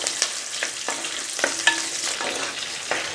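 Small onions (shallots) sautéing in a pan for drumstick sambar: continuous close sizzling broken by regular stirring scrapes about every half second.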